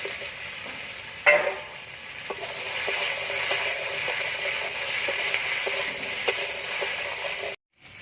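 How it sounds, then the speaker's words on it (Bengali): Taro and brinjal frying together in mustard oil, after potatoes were fried in it, make a loud continuous sizzle with periodic scraping stirs and one sharp knock near the start, cutting off briefly before the end. "একটু আর বেগুন একসাথে দিয়ে দেবো"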